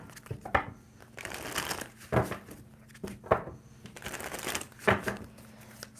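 Tarot cards being shuffled in several short, crisp riffling bursts, close up, with quiet pauses between them and no talking.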